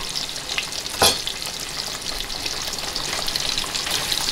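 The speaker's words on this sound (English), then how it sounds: "I want some nice caramelized flavor on my sausages, so I am going to fry them" Sausages fry in a pan with a steady, close, crackling sizzle and a brief clatter near the start.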